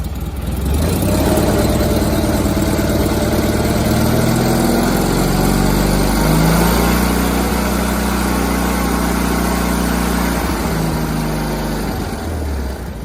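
A John Deere 317 lawn tractor engine runs steadily up close, its pitch climbing and dipping as the throttle is opened up, then easing back near the end.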